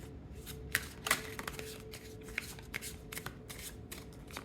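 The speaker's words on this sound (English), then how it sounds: "Okay, a little bit more shuffling." Tarot cards are shuffled by hand in a quiet room, giving soft, close riffling and flicking bursts with a few sharper snaps at irregular intervals.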